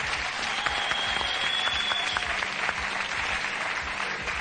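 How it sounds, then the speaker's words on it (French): Studio audience applause on a French TV game show, dense steady clapping that holds loud and even throughout, with a faint voice threaded under it. "je vous demande d'applaudir Virginia et Philippe."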